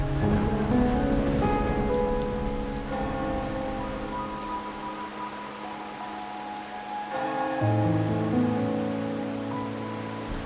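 Steady rain falling in Raguna in the game Wuthering Waves, a continuous wash of drops under a sustained musical score that shifts key partway through.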